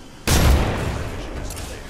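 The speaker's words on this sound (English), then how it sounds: "Getting shot at." In the Apex Legends video game, a sudden loud blast of gunfire cuts in after a quiet moment, then trails off into a rumbling, decaying tail.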